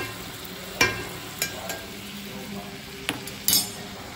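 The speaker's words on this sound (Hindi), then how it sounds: "अब डालते हैं गाइस प्याज" Onion goes into a pan with butter and oil for pav bhaji; a quiet background sizzle runs under a few sharp clinks of a spoon stirring against the pan.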